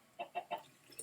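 Three quick, quiet clucks from chickens on a Minecraft automatic chicken farm, evenly spaced and soft, followed by a faint fourth cluck.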